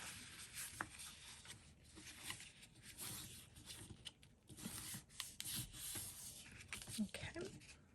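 White paper flaps of a mini file folder book are folded and creased by hand, giving soft, close rubbing and scraping sounds with small taps, uneven in rhythm.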